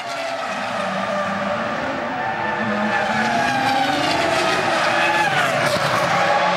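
A Formula 1 car in the 2004 season spins out on track, its engine wailing loudly with shifting pitch and a sustained skidding tire noise, close and continuous.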